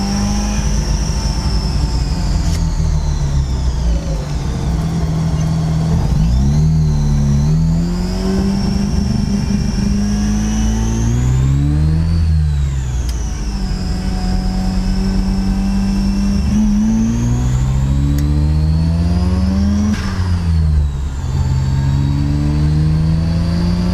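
A Ford Escort MK1 fitted with a 12A turbo rotary engine drives past loud and close, its pitch climbing and dropping through several revving gear changes over a steady engine drone, with no talk.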